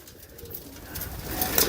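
Pure gold Punnu breed pigeons give soft, low cooing that stays faint throughout a short stretch, swelling slightly toward the end.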